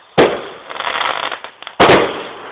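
Home fireworks in 2012 go off with two sharp, loud bursts, the first trailing into a crackling, fizzing spray before the second blast hits.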